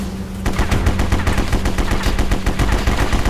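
Rapid automatic gunfire from the War Brokers video game, a loud, sustained stream of closely spaced shots after a brief quieter start, with no talking.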